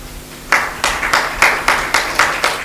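An audience clapping in unison at a spiritual gathering, a steady rhythmic run of about nine sharp claps after a brief quiet start, moderately loud in a large room.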